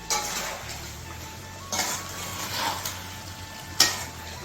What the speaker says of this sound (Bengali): মা রান্না করছে। কি রান্না করছো? চিকেন কষা।